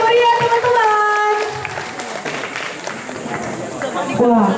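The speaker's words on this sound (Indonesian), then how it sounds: "Kita tepuk tangan yang meriah teman-teman." A crowd claps for a university dance and musical drama performance, a broad rustle of applause heard under a speaking voice and crowd chatter.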